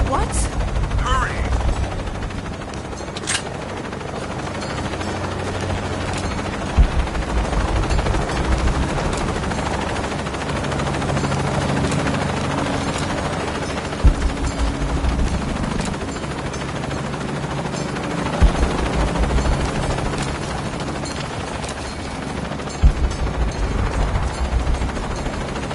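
Helicopter rotor drone in Shadow of the Tomb Raider, heard amid bursts of gunfire and combat noise, with sharp impacts punctuating the steady thrum and some voices.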